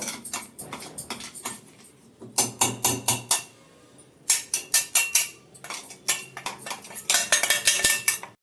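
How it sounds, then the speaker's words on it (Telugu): Repeated metallic scraping and clinking of a spoon against a mixer jar, scraping out ground masala, in quick uneven bursts with short pauses between. "మిక్సీ జార్లో కొద్దిగా అనమాట అది స్పూన్ ద్వారా నేను నీట్గా తీసేస్తున్నాను"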